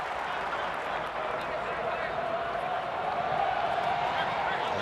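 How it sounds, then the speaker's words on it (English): Rugby league crowd at Wigan v Warrington in Super League raising its voice, a broad, sustained roar and clapping from the stands that swells slightly toward the end, with a commentator's voice underneath. "Now the crowd find their voice."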